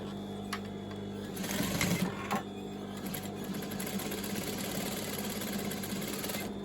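A domestic sewing machine runs two rows of stitching along a pair of children's shorts, with a steady mechanical whir, a close rattle and a couple of brief louder bursts.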